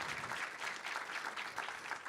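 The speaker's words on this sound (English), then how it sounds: "That's worth a round of applause" A criminal justice summit audience gives a round of applause, a continuous, fairly faint spread of clapping heard from a distance with no voices over it.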